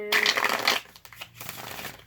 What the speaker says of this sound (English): I'll go ahead and shuffle the cards